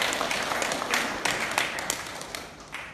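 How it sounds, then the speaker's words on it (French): Scattered, moderate applause from a church congregation, steady patter of many hands with a few sharper individual claps, continuing for a few seconds at middle distance. "On nous donne un gros applaudissement pour monsieur David."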